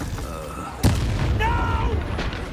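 A single sharp blast from the Confringo fire spell in Hogwarts Legacy bursts out loud and close over a continuous game backdrop, with a voice briefly heard afterward.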